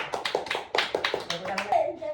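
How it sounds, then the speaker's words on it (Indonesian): A classroom of children claps hands together in a quick, rhythmic pattern of sharp claps, close and fairly loud, with some faint kid voices underneath. "Berikan tepuk tangan."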